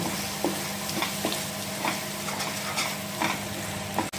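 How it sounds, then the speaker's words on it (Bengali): Ground spices, including Kashmiri red chilli powder, frying in oil in a pan for a Bengali rui fish curry, stirred steadily with a spoon: a continuous close sizzle with repeated soft scraping strokes, no talking. "আর এখন গুঁড়ো মশলাগুলো একবার ভালো করে মিক্স করে নেব।"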